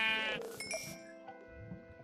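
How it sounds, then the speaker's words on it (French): A sheep in the video game Minecraft gives a wavering bleat at the start, followed by quieter game sounds and faint tones; the bleat is clear and close, with no talking over it. "Le mouton, mais qu'est-ce qu'on fait avec le mouton là?"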